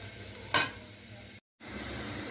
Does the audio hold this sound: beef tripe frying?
yes